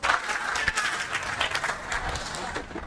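Audience applause during a speech, a brief, moderately distant wash of clapping from a crowd.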